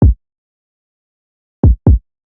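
A simple, un-EQ'd kick drum sample thumps three times, one hit then a quick pair after a pause, each a short deep boom that drops in pitch and stands alone and loud.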